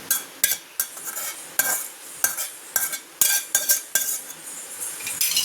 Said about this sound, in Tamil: இப்போ வந்து இது வறுத்த முட்டையோ ஒரு தட்டில் ட்ரான்ஸ்ஃபர் பண்ணி வச்சுக்கலாம்.